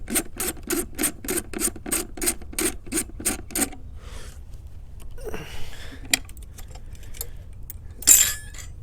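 Battery nuts being worked loose on a BMW R1200RT motorcycle: a run of about a dozen quick, even rasping turns from a ratchet wrench, then scattered metallic clinks and handling knocks, with one sharper clatter near the end.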